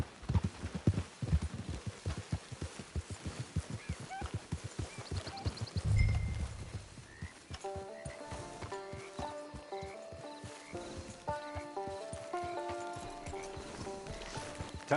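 Horse hooves clip-clopping at a steady walk in the video game Red Dead Redemption 2, close and distinct, with a snort partway through and game music rising in the background.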